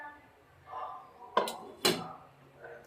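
A metal tiffin box is set into a pan of water on a stand and the lid is put on, giving two sharp, close clanks of metal on metal with a soft scrape between them in a quiet kitchen.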